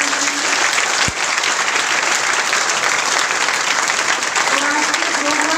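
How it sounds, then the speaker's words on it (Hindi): Audience at an annual sub-center festival and teacher honoring ceremony breaks into loud, sustained applause, dense clapping filling the hall for several seconds with a faint crowd murmur underneath. "बहुत जोरदार तालियां बजाएं।"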